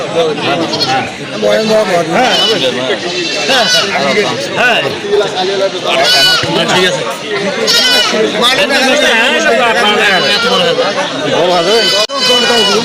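Goats bleat repeatedly at a busy cattle and goat market in Dimla, their calls rising through constant loud crowd chatter and bargaining voices close by.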